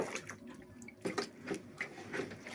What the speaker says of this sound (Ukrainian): А потім доливаємо холодною водою